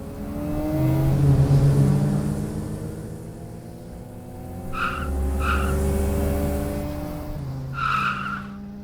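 Race cars drifting sideways down a hill through a turn, engines droning and revving while tires squeal in several bursts, loud and fairly close with engine pitch shifting throughout.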